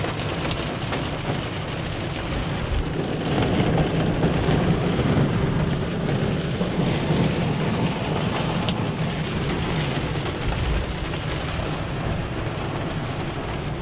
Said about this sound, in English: we got some pretty strong thunderstorms going through right now